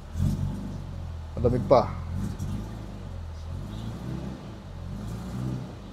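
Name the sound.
Mercedes-Benz W124 engine revving, no muffler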